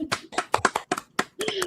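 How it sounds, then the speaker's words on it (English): One person claps by hand for a guest's entrance on a live show, a quick run of about eight sharp, close claps at uneven spacing, with a voice coming in near the end. "I can't give her a round of applause, but I will manually"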